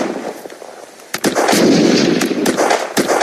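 Gunfire in the video game Unturned cracks out as several sharp, loud reports in quick succession, some spaced irregularly, each with a booming tail.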